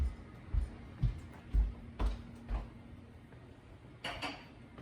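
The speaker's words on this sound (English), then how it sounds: "we're gonna take our pot of butter to the stove" A pot of butter is lifted and set down on a stove, giving a series of soft metallic knocks and clanks spaced about half a second apart, close and fairly quiet, with no talking.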